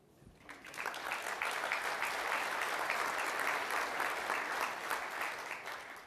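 A conference audience at a users conference opening breaks into applause, rising quickly into a dense, sustained roar of many hands clapping that holds steady, then eases slightly at the end.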